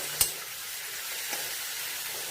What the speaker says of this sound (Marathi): यामध्ये हळद घरगुती मसाला परतून घ्यायचं मिक्स करून घ्यायचं लगेच ह्या शेंगा टाकायच्या